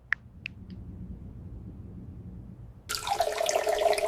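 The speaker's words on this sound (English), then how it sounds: "I fill my water bottle." Tap water runs into a water bottle after a few faint clicks, a steady close hissing stream beginning suddenly and continuing to the end.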